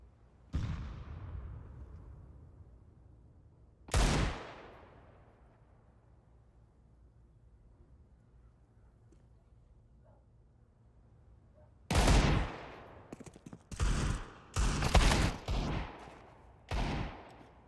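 Gunfire in the Counter-Strike 2 video game during a Mirage match: isolated single shots at first, then a cluster of rapid bursts, sharp and loud over a quiet background.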